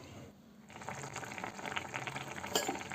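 Jackfruit curry boils in a pot, a close, busy bubbling and gurgling that grows livelier after a brief quieter start, with no clear talking.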